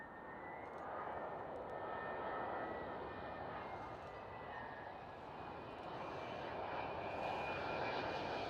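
A Boeing 787 airliner in a new livery with a bluer tail passes at Schiphol, its engines giving a steady, fairly loud broadband roar that holds evenly throughout with no voices.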